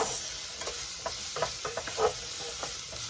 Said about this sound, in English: Saute this